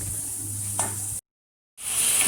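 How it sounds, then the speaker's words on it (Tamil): Ginger garlic paste fries in a pan for kara sara chicken, giving a steady close sizzle that cuts out briefly to silence before returning. "இஞ்சி பூண்டு பேஸ்ட் போட்டுக்கலாம். நல்லா ஃப்ரை ஆகட்டும்."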